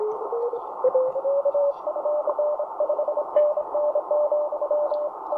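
Steady CW sidetone near 1 kHz on a Tecsun PL-330 radio, a continuous pure tone with slight pitch drift as it is fine-tuned, heard over a band of soft receiver hiss with brief keyed dips.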